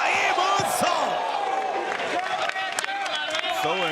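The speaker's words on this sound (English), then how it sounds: "Listen to the crowd here in the Beantown Beatdown." A wrestling crowd at the Beantown Beatdown roars and cheers continuously, a dense wall of voices with shouts and whistles poking through, loud and close throughout.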